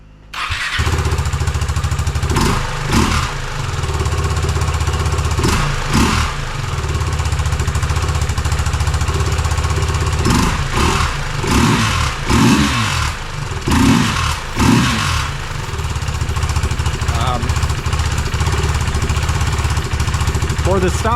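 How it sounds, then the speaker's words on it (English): A KTM RC 390 motorcycle with an aftermarket Coober header and the stock exhaust runs loud and close, holding a steady droning idle that is broken by several short, sharp revs. "I'm gonna let you hear the sound of the header with the stock exhaust."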